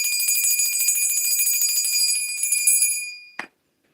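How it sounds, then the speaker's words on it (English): A bell is rung once in the morning, its bright, steady ringing tone sustaining for about three seconds before a brief final strike cuts off into silence; no voices. "Let's ring the bell this morning."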